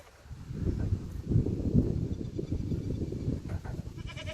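A male goat bleats nearby amid a low, rumbling outdoor background, its calls rising over steady noise.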